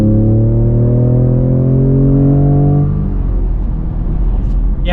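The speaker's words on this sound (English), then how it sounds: "we are getting an acceleration here onto the highway" A 2020 Ford Raptor truck accelerates onto a highway, its engine note rising loudly and smoothly for about three seconds before easing into a steadier cruising hum and road noise.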